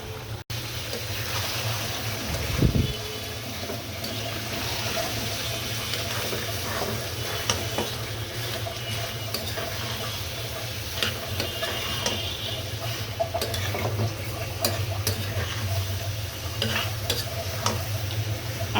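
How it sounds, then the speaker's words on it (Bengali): Liver and potato pieces sautéed in a pan, a steady close sizzle with scraping stir strokes running throughout and one louder knock near the start. "কলিজাটা সুন্দর মতো কষিয়ে নিচ্ছি।"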